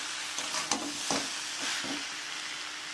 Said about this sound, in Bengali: এবার আমি ওর মধ্যে দুধটাকে দিয়ে দেব।